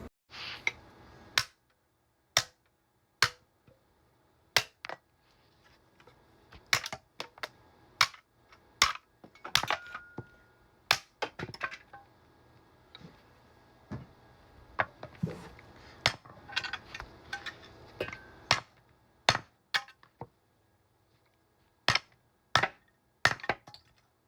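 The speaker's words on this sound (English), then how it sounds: "the next thing I can think of is just hit this stuff with a hammer" Sharp, loud hammer impacts on PLA and PA6-CF 3D printer filament strike again and again, irregularly spaced, some in quick clusters, with quiet gaps between blows.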